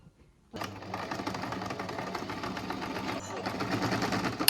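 A sewing machine stitching a dress starts after a short pause and runs in a steady, fast mechanical whir to the end, close and moderately loud.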